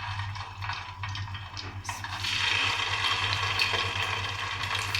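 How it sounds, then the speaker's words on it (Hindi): Chicken reshmi kebabs deep frying in hot oil in a kadai, a steady crackling sizzle that grows louder and denser partway through, over a low steady hum. "जैसे ही ऑयल गर्म होगा हमने कबाब को डीप फ्राइंग के लिए इसमें शामिल कर देंगे"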